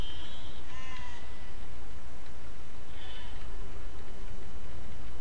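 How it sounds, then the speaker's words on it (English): Sheep bleating in the building game Besiege, a few short wavering bleats against a steady loud rumble, one early and another a couple of seconds later. "Why are the sheep following me?"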